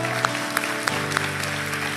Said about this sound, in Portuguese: Dê um aplauso ao Senhor pela vida do Vitor, por favor.